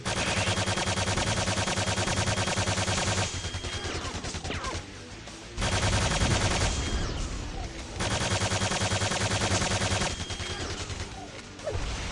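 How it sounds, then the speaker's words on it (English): Rapid gunfire from weapons in Quake 2, dense and loud bursts of shooting with explosive crashes, pausing briefly before resuming in sustained volleys. "Let's have some rapid fire action."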